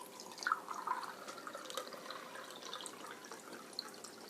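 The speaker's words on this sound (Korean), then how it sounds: "물을 200ml 1컵 물을 부으시고요" A cup of water, about 200 ml, is poured into a pot while cooking carrots preserved in honey, giving a faint splashing, dripping trickle that runs unevenly and quietly throughout.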